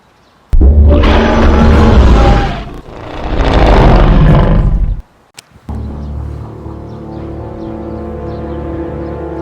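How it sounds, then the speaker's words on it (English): A Godzilla monster roar blasts in two long, very loud bellowing bursts, followed by a sharp crack and a lower sustained droning tone that fades out. "I heard a roar, a very loud roar that caused the ground to shake."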